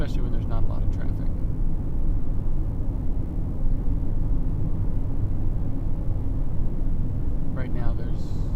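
Car driving along quiet roads late at night, a steady low hum of engine and tires heard from inside, with soft-spoken talk near the start and the end.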